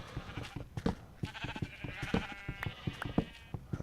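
Several Minecraft sheep bleat over a string of short knocking taps, a busy cluster of game noises at moderate volume with no speech.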